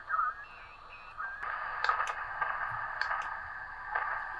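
A Micro SDX amateur radio transceiver receives on the 40 meter phone band in lower sideband, giving a steady hiss of static with faint wavering tones and brief clicks, moderately loud throughout.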